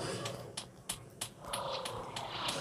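A cat purrs close by in a steady rumbling drone, broken by a few soft clicks and rustles, with faint voices in the background.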